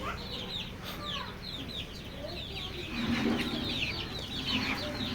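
Native white hens, Fayoumi chickens and a rooster in a poultry pen cluck and chirp repeatedly in quick overlapping bursts, fairly close, with some soft background noise.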